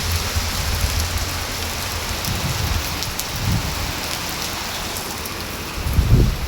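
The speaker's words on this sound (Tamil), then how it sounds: "பார்த்தீங்களா, நல்ல மழை." Heavy rain pours down steadily in a dense, continuous wash, with a few louder low rumbles swelling briefly near the end and no voices.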